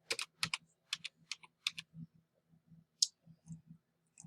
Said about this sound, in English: I'll type my number again. I'll type my date of birth again.